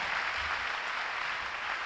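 A church congregation applauds the Lord, a steady dense wash of clapping that stays loud and even throughout, with no talk over it.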